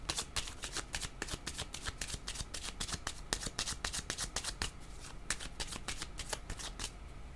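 Playing cards being shuffled steadily for a card reading, a fast rapid riffle of crisp snaps repeating throughout, close and fairly loud with no talking.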